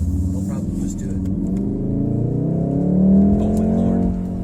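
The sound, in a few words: 2019 Volkswagen Golf R engine revving on quick downshifts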